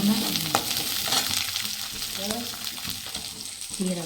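Onions and small shallots fry in hot oil in a pan for brinjal kuzhambu, giving a loud, constant sizzle broken by scraping stirs of a spoon, close by with no talk.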